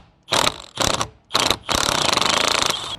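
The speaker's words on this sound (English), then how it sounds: "Now we're going to take a T50 Torx bit and remove the center bolt." A cordless impact driver with a T50 Torx bit backs out the center bolt of a Chevy Camaro steering wheel. It fires three short, loud rattling bursts and then one sustained hammering run, close and with no talk.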